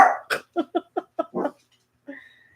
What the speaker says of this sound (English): There's nothing worth barking at.